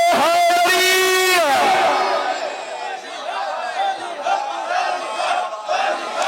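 A large crowd at a religious gathering in Bahawalpur loudly shouts a slogan in unison, a strong collective roar that fades into scattered voices and murmuring.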